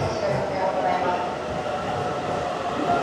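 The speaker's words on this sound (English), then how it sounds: "the first train of this series is this one at 7:01, the Tokaido Main Line, heading to Atami Station." A Tokaido Main Line local train in Japan rumbles steadily, with a continuous low rolling roar and faint rail noise, heard at moderate level with no clear speech.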